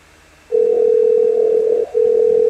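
A steady electronic telephone tone sounds loud and close, holding for over a second, briefly breaking, then resuming; no voices.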